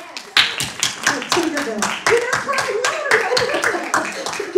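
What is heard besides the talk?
congregation clapping hands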